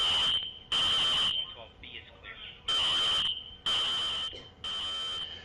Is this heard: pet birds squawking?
no